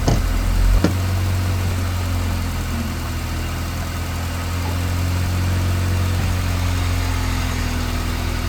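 A stick-shift car sits in neutral on ramps with the handbrake set, its engine idling in a steady low rumble throughout, with a brief knock near the start.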